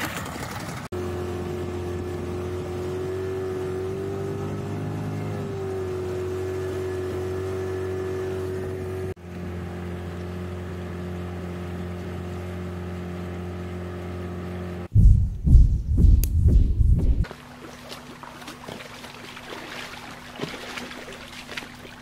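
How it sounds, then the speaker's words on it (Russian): A small boat motor hums steadily at close range on the Ob River, shifting pitch partway through, followed by a short burst of louder, rougher engine noise. "Моторчик уже гудит."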